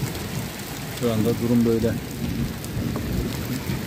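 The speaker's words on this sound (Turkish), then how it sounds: "Sakin sakin yağıyor. Ara ara kesiliyor." Gentle, steady rain falls on farmland, a soft continuous patter that runs through the whole stretch while someone speaks briefly in Turkish over it.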